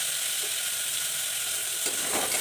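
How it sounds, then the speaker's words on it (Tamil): Tomatoes sauté in a pan for a kurma, making a close, steady sizzle with light stirring scrapes toward the end and no talk. "தக்காளி வந்து நல்லா வதங்கி வரணும்"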